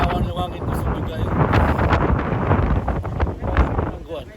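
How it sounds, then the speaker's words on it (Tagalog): Strong typhoon wind from Typhoon Nanmadol in Matsuyama, Japan, roars as a continuous buffeting rush with rumbling gusts battering the microphone up close. "Ang hangin, no? Kusog kayo ang hangin."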